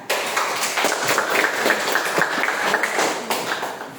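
A school class of seventh graders claps hands in applause, a dense burst of overlapping claps that starts abruptly and carries on steadily for several seconds at close range.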